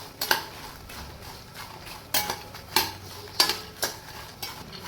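Fox nuts roasting dry in a pan are stirred and tossed, giving a series of sharp scraping clicks and light rattles at irregular intervals over a faint background hiss, with no talking.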